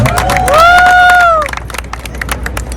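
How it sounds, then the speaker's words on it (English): A crowd in Times Square cheers and claps for kids' dances at an Indian Independence Day flag hoisting, with a loud burst of whooping and shouts that fades into scattered claps and chatter. "A big round of applause for the kids for the dances."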